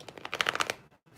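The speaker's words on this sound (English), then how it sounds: "I'm going to shuffle the vice versa deck 3 times for their soulmate." A tarot deck is shuffled in a quick riffle of rapid papery flutters, close and crisp, ending in a brief pause and a final soft tap.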